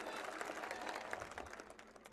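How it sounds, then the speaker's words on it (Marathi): Steady applause from a crowd at a Congress party campaign rally, a dense continuous patter of many hands clapping at once, held at an even level throughout. "वाजवा एक टाळ्या ह्यांच्यासाठी."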